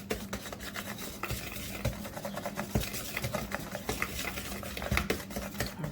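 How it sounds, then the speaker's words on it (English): Flour and salt being whisked together in a bowl, a quick scraping, clinking rhythm of the whisk against the bowl, close and fairly quiet, with no one talking. "we're going to whisk that together"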